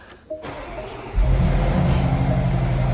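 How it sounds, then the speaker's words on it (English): A brand-new 2026 Porsche Cayenne S with a V8 engine starts up, a brief crank followed by a loud, deep roar that settles into a steady, rumbling idle close by, with no voices. "This is a 2026 brand new Porsche Cayenne S with the V8 engine. We'll start it up."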